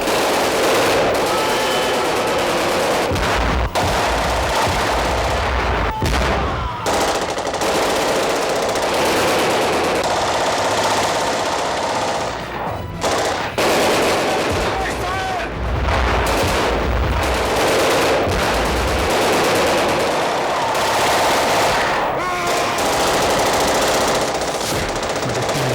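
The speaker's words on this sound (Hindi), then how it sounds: "अचानक गोलियां चलने लगी।" Rapid bursts of loud machine-gun fire rattle continuously, punctuated by heavier booming shots, with no pauses long enough for quiet between volleys.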